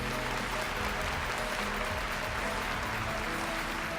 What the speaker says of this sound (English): if you would give a warm round of applause for Mr. Moshe Rappaport from IBM